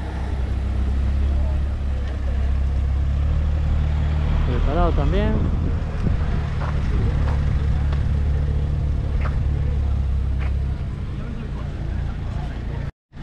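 The zero car idles at the start line of the Jaizkibel hill climb rally, its engine giving a steady low rumble under nearby talk, and a brief rising rev is heard midway.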